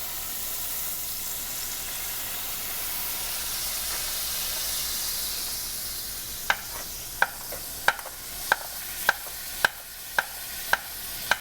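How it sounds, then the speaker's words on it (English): Balsamic vinegar deglazing a hot pan after searing cocoa-rubbed steak, a steady loud sizzle and hiss, followed by rhythmic scraping taps of a wooden spoon stirring the pan. "We can unlock these flavors by deglazing. In this case, I'm using a nice balsamic vinegar."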